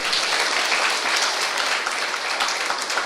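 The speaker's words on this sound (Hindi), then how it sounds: "जोर से तालियां बजाएं, पास हो गए" A crowd claps loudly and continuously, dense and even applause filling the moment with no voices over it.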